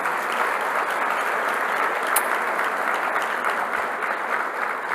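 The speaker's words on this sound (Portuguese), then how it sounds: "Uma salva de palmas para a dona Ivone." A church congregation applauds at an anniversary celebration service, a dense, steady round of clapping that stays loud and even throughout without talk.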